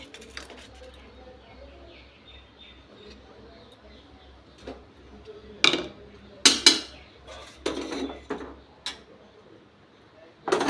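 Ceramic and metal clinks as a serving plate is set out for an Ekadashi offering with sabu payesh, a handful of sharp knocks and scrapes in a quiet room, with birds cooing faintly behind.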